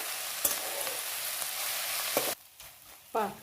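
Fenugreek leaves with lentils stir-fried in a pan for Maharashtrian methi bhaji, a loud steady sizzle with sharp spoon scrapes that drops abruptly to quiet, then a brief burst of stirring near the end.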